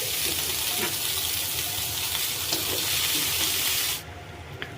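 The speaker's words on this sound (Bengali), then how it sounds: "এবার আমি বাঁধাকপি কুচি দিয়ে দিব।" Chopped cabbage tipped into hot oil with fried onion, garlic and green chilli, giving a loud, steady hiss and sizzle that runs unbroken at close range before cutting off abruptly.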